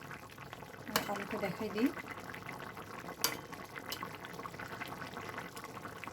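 A pot of tengra fish curry with potatoes simmers in a soft, continuous bubbling under a voice, with a couple of sharp clinks from a utensil.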